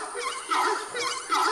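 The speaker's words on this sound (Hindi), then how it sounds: "Horn screamer. इसकी आवाज सुनकर आपको ऐसा लगेगा जैसे कोई गधा जोर से चिल्ला रहा हो।" A horned screamer bird gives loud, braying honks in two or three repeated bursts, close and harsh like a donkey's bray, with no other sounds.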